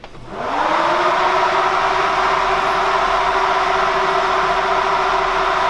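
Electric radiator fans on a 2JZ-powered Nissan S15 drift car spin up quickly and then hold a loud, steady whir with an even tone throughout.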